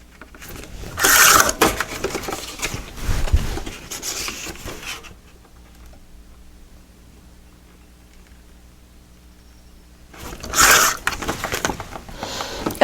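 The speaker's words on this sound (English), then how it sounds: "I'm going to go ahead and cut these down" Paper pieces for a photo album are cut in two separate bursts of scraping, rustling slicing, one near the start and one near the end, with a quiet pause between them.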